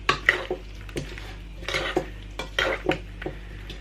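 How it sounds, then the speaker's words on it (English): Two spoons scoop and lift boiled potatoes, onion and chives through mayonnaise in a bowl, giving a string of close, wet squelching strokes with light clinks of spoon against dish at irregular intervals. "I'm just literally scooping up underneath and lifting the potatoes and onion and chives through the mayonnaise"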